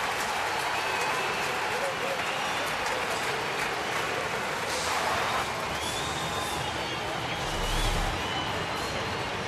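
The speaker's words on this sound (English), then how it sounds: "Very appreciative crowd with a big ovation for Altuve." A baseball crowd at an Astros home game against Washington gives a big ovation after a line drive single, loud sustained applause and cheering filling the stadium, with an announcer talking over it.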